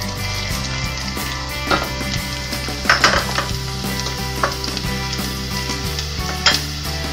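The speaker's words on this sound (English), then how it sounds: "Alright, we'll put in the mushroom." Mushrooms are stir-fried for a Hakka abacus seeds dish, sizzling in a hot pan while a spatula scrapes and clanks against the metal. A low continuous hum runs beneath the cooking.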